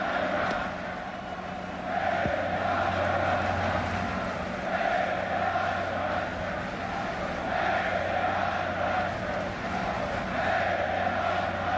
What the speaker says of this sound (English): This crowd chanting, "Where is Roger?"